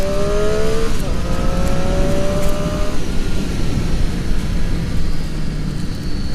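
Loud continuous engine and wind roar while riding a 2018 Triumph Street Triple RS motorcycle, the engine note climbing and shifting near the start before settling into a steady cruise.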